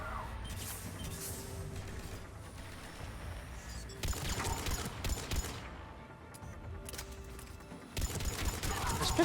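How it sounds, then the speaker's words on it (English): Pistol gunfire in a Mass Effect–style shooter game, loud bursts of rapid shots clustered in several volleys over a busy background of battle noise and impacts. "This pistol ain't too bad, actually."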